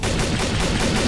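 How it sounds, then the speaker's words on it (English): Rapid gunfire in the Garry's Mod video game, a loud continuous burst of closely spaced shots lasting about a second. "He fucking shot Harv!"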